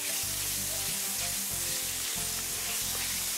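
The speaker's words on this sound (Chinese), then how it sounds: "肉末炒下后再倒入红椒一起炒" Minced meat and red pepper stir-fried in a wok for spiced eggplant, a loud continuous sizzle broken by regular stirring pulses, with no voices.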